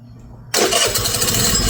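Abandoned 49cc scooter engine firing up abruptly after a quiet start, then running steadily with a buzzing, near idle.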